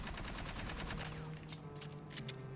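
An L36 Halberd gun in Aliens: Fireteam Elite fires in a fast continuous automatic burst, then slows into a few separate shots, fairly faint throughout with no talking.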